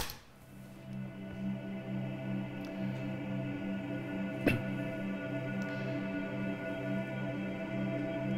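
A shimmery, self-made sound design texture built from processed choir recordings, scored for the action film Run All Night, drones with sustained layered tones and a single brief transient midway, steady and alone.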